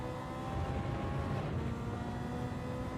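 A steady, droning car engine in Gran Turismo 7 hums at a constant pitch with a flat, unexciting tone, sustained evenly for a few seconds without revving.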